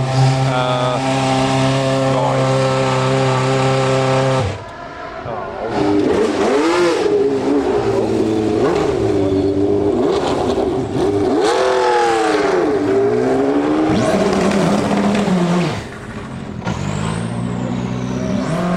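Formula One racing cars at Goodwood rev and accelerate loudly and close by, a sustained high engine whine giving way to rising and falling revs, with brief dips between passes and no talking.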